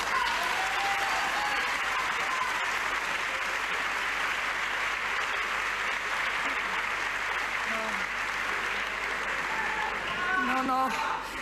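A studio audience on an Italian Sunday television show applauds, a dense, loud, continuous clapping that holds steady for several seconds while voices talk faintly underneath.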